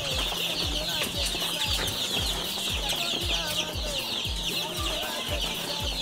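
Chickens and poultry in a community farming cooperative cluck steadily and loudly, with repeated low thumps and a constant high insect-like hiss running beneath the birds' calls throughout.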